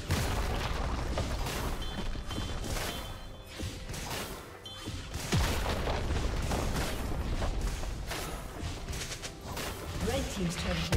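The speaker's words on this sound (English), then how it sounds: "Red team's turret has been destroyed" A League of Legends turret is destroyed amid dense, busy game combat, with repeated booming crashes and impacts layered over constant effects, a voice talking through the action.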